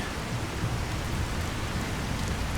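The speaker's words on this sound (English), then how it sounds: "So Susan running through the rain," Rain and thunder in Fallout 4 form a dense, steady hiss of rainfall with low rumbling underneath, moderately loud and unbroken, with no speech.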